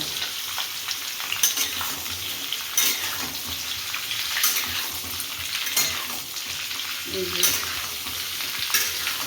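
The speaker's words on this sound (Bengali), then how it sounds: "কালো জিরা ফোড়ন দিলাম, তেলটা গরম হয়েছে, আলুগুলো ছেড়ে দিলাম।" Steady, hissing sizzle of potatoes frying in hot oil tempered with nigella seeds, close and continuous, with occasional stirring scrapes and no talking.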